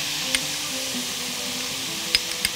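Food sautés in a pan with a faint, steady sizzle, broken by a few sharp utensil clicks near the start and end.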